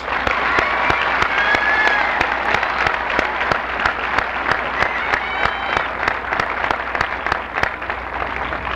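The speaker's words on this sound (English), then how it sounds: "let's give these folks a collective round of applause" A standing audience at a 1991 high school commencement gives a sustained collective round of applause, dense crowd clapping with some sharper individual claps, steady and loud for the whole stretch, voices faintly mixed in.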